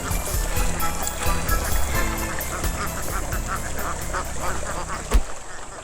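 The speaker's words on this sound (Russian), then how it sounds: "Это утки в своей естественной среде обитания." Ducks in their natural habitat, a busy chorus of repeated honking quacks close by over a noisy outdoor background.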